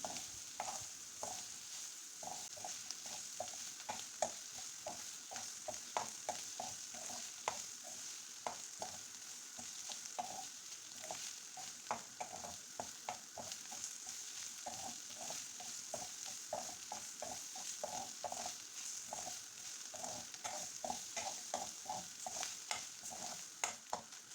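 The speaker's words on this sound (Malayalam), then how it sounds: "അടിഭാഗം ഒരു ബ്രൗൺ നിറം അടിക്കുന്നത് വരെ ഇളക്കിക്കൊണ്ടിരിക്കണം." Mussel stir-fry (kallummakkaya thoran) being stirred in a pan until browned on the bottom, a faint continuous sizzle with steady scraping and clinking strokes of the spoon throughout, no voices.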